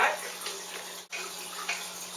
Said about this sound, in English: we heated up some water, and we're going to pour it into our F pack.